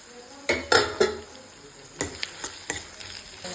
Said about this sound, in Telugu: ఆయిల్ వేడెక్కింది, పోపు దినుసులు కూడా అయిపోయాయి. ఉల్లిపాయలు వేసుకున్నాం